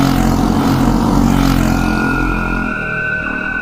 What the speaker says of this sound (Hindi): अचानक पीछे से कई बाइक्स की आवाजें सुनाई देने लगी।